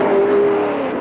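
Porsche and Ford race cars running down the Mulsanne straight at Le Mans in 1969, a loud sustained engine roar with a steady tone that holds for about a second.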